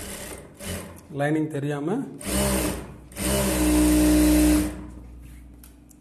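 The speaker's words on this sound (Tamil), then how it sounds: "ஓரத்தில் எஜ் தையல் போட்டுக்கோங்க" A sewing machine runs in short bursts, stitching the edge of a size 39 blouse, with a person talking over and between the stitching runs.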